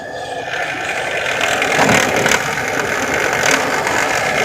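A vehicle's reverse gear grinds abnormally while shifting, giving a loud, continuous rough ratcheting and grinding rasp with a few sharper surges, close up and with no talk.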